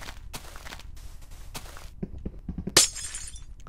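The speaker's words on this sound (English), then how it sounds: "Some ice that I need to break." Ice blocks broken in Minecraft, a run of short dry clicks and taps ending in one bright shattering crack.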